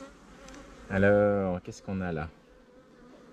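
Honey bees hum around an open beehive in a garden, with close, loud buzzing bursts rising and breaking off. A short spoken phrase sits among them.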